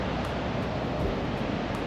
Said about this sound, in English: the microphone picks up a lot of the ocean sounds